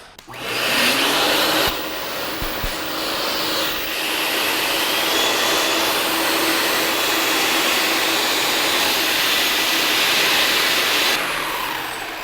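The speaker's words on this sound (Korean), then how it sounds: "요거는 안에 바람개비가 들어있어서 회전 브러시의 회전을 일으키는 그러한 힘을 제공하죠. 한번 장착을 해보겠습니다." A PRO-402 twin-motor vacuum cleaner runs with an air-driven power brush fitted, its turbine spinning the rotating brush. The whirring roar rises near the start, holds loud and steady, then drops away at the end.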